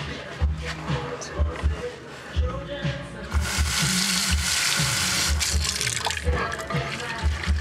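A deglazed pan is washed with soap under a running tap, starting with low clunks and splashes, then a steady rush of water from about the midpoint, close by, with a person speaking over it.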